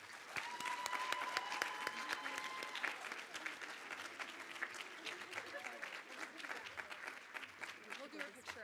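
Sustained applause from an audience at a student leadership recognition banquet, a dense patter of many hands clapping evenly throughout, with faint voices and a brief tonal sound early on.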